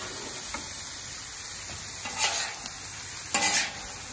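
Cheesesteak meat with banana peppers frying on a hot Camp Chef flat top griddle, a steady soft sizzle with a few louder spatula scrapes and stirring bursts near the end.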